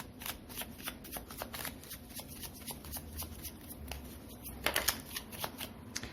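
Tarot cards shuffled by hand in a steady run of soft riffling, papery flutters and taps, with a brief louder burst near the end.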